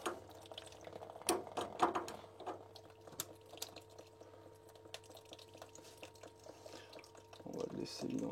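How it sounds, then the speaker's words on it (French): Water drains from a household plumbing system through an open purge valve, a soft steady trickle and drip with scattered clinks and knocks, fairly quiet, while someone talks now and then. "On va le laisser vidanger gentiment."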